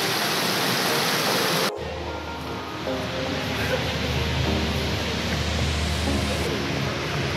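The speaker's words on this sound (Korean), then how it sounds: "천지연 폭포에 오신 걸 환영합니다. 미로 미로. 물이 미로처럼 내려가요." Cheonjiyeon waterfall on Jeju pours with a loud, continuous roar of falling water, broad and steady, with a brief dip in intensity before the rushing resumes.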